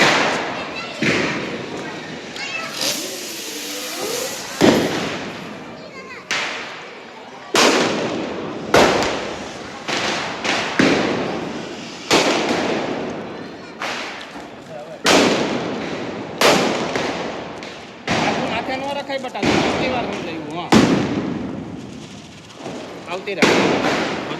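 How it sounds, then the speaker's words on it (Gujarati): Diwali firecrackers burst one after another around a residential building, sharp bangs and thuds at uneven intervals with echoing tails, some near and some farther off, under people talking. "મસ્ત મજાનો માહોલ છે નીચે બધા મસ્ત મજાના ફટાકડા ફોડે છે"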